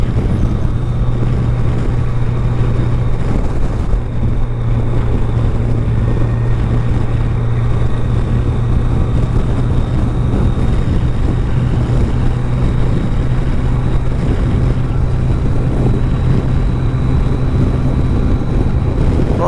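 A steady motorbike engine drone with heavy rushing wind noise runs unbroken throughout, loud and close, riding along at speed in the Scottish Highlands near Glencoe.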